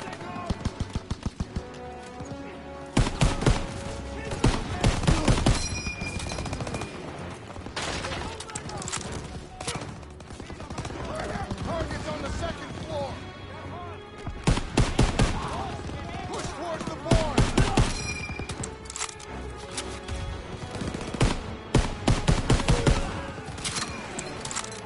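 Bursts of rifle and machine-gun fire crack repeatedly in Call of Duty WWII, loud clustered volleys separated by calmer stretches of game sound, with someone talking in places.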